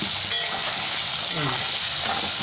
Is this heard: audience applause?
no